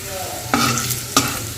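Vegetables stir-fried in a pan for a Bengali doi shukto meal with fried bitter gourd, a steady sizzle throughout with two sharp scraping stirs of a spatula against the pan, close and moderately loud with no talking.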